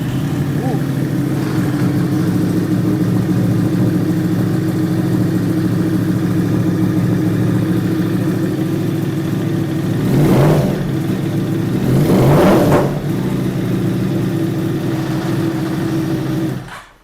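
A Yamaha R1 superbike engine runs steadily for most of the span, with two louder revving surges; it idles on under a continuous mechanical drone before cutting off at the end.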